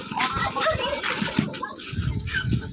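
Street dogs barking and scuffling in a lane, a burst of yips, whimpers and growling barks at close range, uneven and overlapping, with some voices around.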